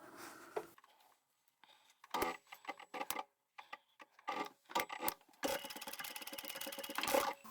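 A sewing machine stitches a fabric tab on a double-sided zipper pouch in short bursts of rapid mechanical chatter, separated by brief pauses and small handling clicks, close and moderately quiet.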